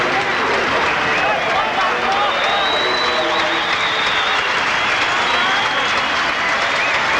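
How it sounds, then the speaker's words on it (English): Stadium crowd at a 1985 St George rugby league match applauding as player Craig Young leaves the field. Broad, steady roar of applause fills the ground, with a commentator speaking over it throughout. "And as the applause rings out around the ground for Craig Young"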